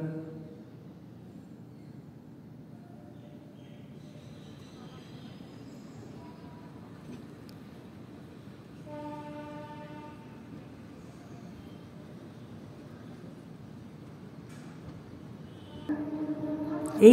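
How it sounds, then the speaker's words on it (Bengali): An Intercity Express train rolls into Bardhaman Junction, heard from inside as a steady low rumble with a brief tonal horn-like blast midway and a louder surge near the end. "এই তো বর্ধমান জাংশন ঢুকলাম আমরা"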